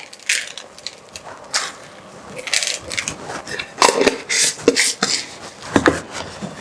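Rainbow sprinkles poured and scattered onto dough, a run of dry, crisp ticking and rattling bursts in irregular clusters, close and moderately loud, with no speech over them.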